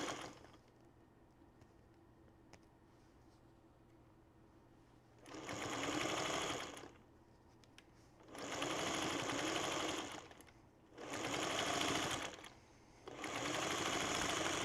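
Sewing machine stitching through folded fabric layers to close a hole, running in four sustained bursts with short pauses between them after a quiet stretch at the start, close and steady with no talking.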